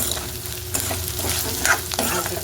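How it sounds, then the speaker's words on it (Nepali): Buffalo meat for bhutan stir-frying in a pan, a dense steady sizzle with scraping stirs of a spatula close by, no voices. "भुटनमा चाहिँ मजाले जति भुट्यो त्यति मिठो हुन्छ"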